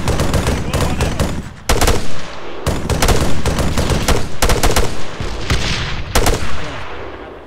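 Rapid bursts of automatic gunfire crack and rattle in the Arma 3 video game, loud and close, in repeated volleys separated by brief pauses, with more shots echoing in the background.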